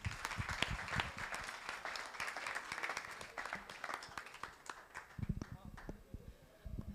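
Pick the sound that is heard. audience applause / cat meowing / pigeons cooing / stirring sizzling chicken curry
audience applause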